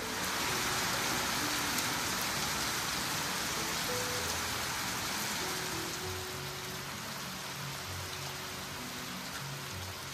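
Steady, fairly heavy rain falls around the cottages of a small resort in Karjat, a continuous hiss of drops on surfaces with faint background sounds underneath.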